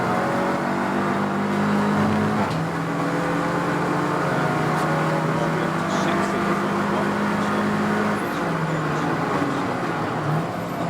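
Race car lapping Snetterton circuit in a 750 Motor Club Roadsports race, its engine droning loudly with shifting pitch as it passes, set against steady background circuit noise.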